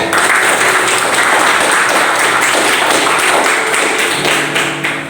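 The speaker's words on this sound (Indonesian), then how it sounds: "Tepuk tangan untuk semuanya." A class of students in an Indonesian school lesson applauds loudly and steadily, dense clapping filling the room for about five seconds before tapering slightly at the end.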